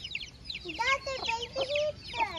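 Chicks peep and cheep in rapid, overlapping high chirps, with a few lower clucking calls mixed in, close by.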